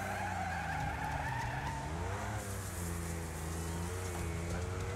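A Jeep Trooper in Wreckfest skids after a crash on a dirt circuit, tires scraping and sliding while the engine drones and shifts pitch beneath a constant roar of gravel noise.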